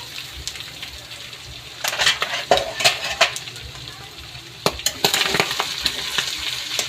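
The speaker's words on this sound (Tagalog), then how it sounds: "Nagmamantika na po mga kaigib." Adobo meat sizzling in its own oil in a pan, a steady crackling fry broken by sharp spatters and scraping stirs of a utensil against the pot.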